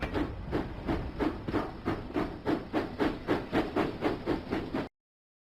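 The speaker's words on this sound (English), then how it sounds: "Thomas puffs and chuffs down the track toward Farmer McColl's farm." A steam locomotive in a Thomas and Friends children's video game puffs and chuffs in a steady rhythmic series of about a dozen hissing beats, moderate and alone before cutting off.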